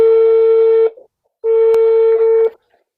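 Two long, steady electronic phone tones sound loud and close, separated by a short gap and ending abruptly, like a ringback or dial signal.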